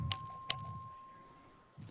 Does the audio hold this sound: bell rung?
yes